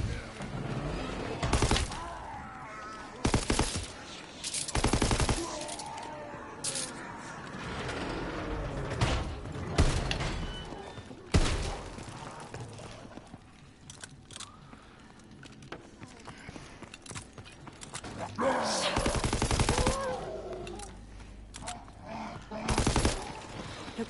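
ST-44 rifle firing in Call of Duty: WWII Zombies, sharp loud bursts and single shots scattered irregularly through a busy game mix, with a voice talking between them.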